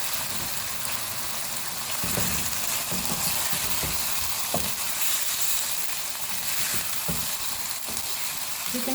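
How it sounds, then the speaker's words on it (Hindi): Chicken frying in a pan with ginger-garlic paste and onion, a dense, steady sizzle throughout with occasional soft stirring scrapes. "चिकन को हम जिंजर गार्लिक पेस्ट और प्याज से फ्राई करेंगे थोड़ा सा।"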